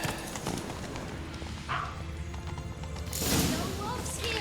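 Horse hooves clatter in The Witcher 3 video game, a faint neigh rising midway, with game sounds and a louder burst near the end.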